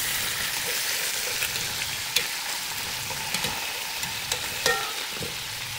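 Chicken pieces fry in a pan with a steady, close sizzle and crackle, dotted with small pops and spatters, no voices over it.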